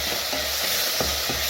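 Spoon stirring a green banana (matoke) stew with tomatoes in a pan over reduced heat, a few soft scraping strokes over a steady low sizzle, close and alone.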